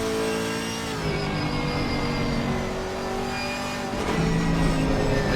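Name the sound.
V8 race car engine in Xbox racing video game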